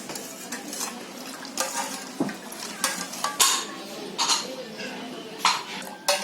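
A spoon clinks and scrapes inside a pot while stirring a milk and sugar mixture with cardamom powder and turmeric, irregular metallic knocks and taps close by, with a voice talking between them.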